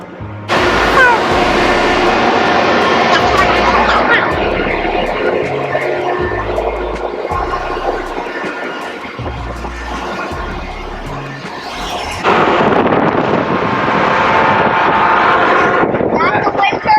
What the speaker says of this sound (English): The big green thing is the gas turbine.